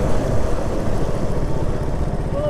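A KTM motorcycle engine rumbles steadily and loudly at close range in a village, a continuous low drone with no breaks and no talking.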